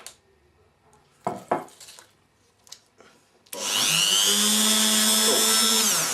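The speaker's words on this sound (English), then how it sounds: "as you notice, is a hell of a lot quicker with the Dremel" Dremel rotary tool cutting into a saucepan, a few scattered clanks and scrapes first, then a loud steady high-pitched whine that runs on without a break.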